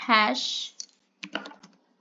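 Keys on a computer keyboard being typed while entering C++ code in a terminal, a short burst of clicks after a brief breathy sound.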